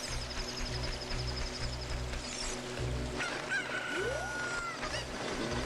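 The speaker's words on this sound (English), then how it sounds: "Let's try to grab this chicken." Game chicken from Zelda Ocarina of Time giving a few short clucks and a crow-like call over steady background music and ambient hum, fairly quiet in the mix.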